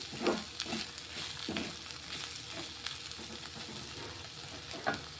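Okra frying in a pan gives a low, close sizzle, broken by a few soft scrapes as it is stirred now and then.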